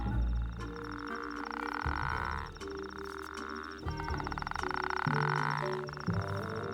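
A male toad in an Arabian wadi giving a loud, close mating call, long buzzing trills in repeated bursts that echo, layered over a steady background drone with tonal notes.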